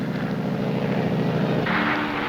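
A light aircraft used for aerial top dressing flies over outback country in 1964, its propeller engine droning steadily and loudly, then shifting to a brighter, higher tone near the end.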